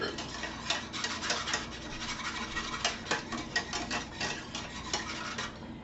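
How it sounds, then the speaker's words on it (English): A spoon scraping and stirring gravy in a pot for a turkey meat loaf supper, with irregular soft scrapes and clinks repeating close up at moderate loudness. "You bring it to a boil, keep stirring"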